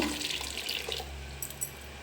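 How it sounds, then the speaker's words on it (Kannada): Water pours into a pressure cooker of radish sambar with lentils and tomato, a faint close trickling splash that runs steadily with no talk. "ಎಷ್ಟು ಬೇಕೋ ಅಷ್ಟು ನೀವು ನೀರು ಆ್ಯಡ್ ಮಾಡ್ಕೊಳ್ಳಿ"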